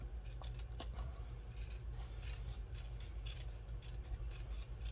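Scissors snip along a marked line on paper for a mini tissue box journal, a quiet run of short, crisp cuts close by with no voices.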